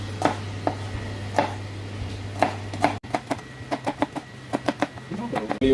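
Ginger is pounded in a stone mortar in a series of sharp, close thuds, spaced slowly at first and then coming in a quicker run of strikes, over a low steady hum.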